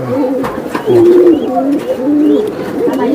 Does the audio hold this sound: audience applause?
no